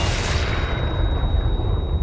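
A flash grenade goes off in Resident Evil 4 Remake, a loud booming blast with a dense low rumble that fades over two seconds while a thin high ringing tone lingers throughout.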